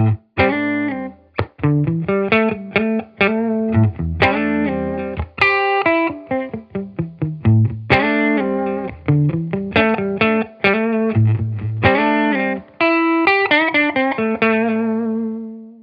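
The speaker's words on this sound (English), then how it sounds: "I am plugged into a Silktone amp, and that sounds like this" Electric guitar through a Silktone tube amplifier playing a quick, busy melodic line with plucked notes and a full amplified tone, continuous and fairly loud with no talking.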